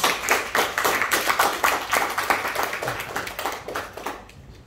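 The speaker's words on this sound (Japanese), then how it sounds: "それでは拍手お願いします。" Group applause from a class audience at the end of a student presentation, steady dense clapping for several seconds that fades out toward the end.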